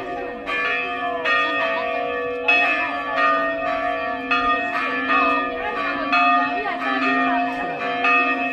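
A church bell at Villaverde Mogina is rung in a steady series of loud, resonant strikes, each tone ringing on into the next during the 2023 festival opening.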